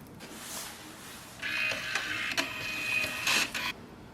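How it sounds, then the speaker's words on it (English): A Canon Selphy CP1300 photo printer powers up close by with quiet whirring and a few mechanical clicks, then a brighter motorized hum that runs for a couple of seconds before stopping. "Now wait for the printer to start."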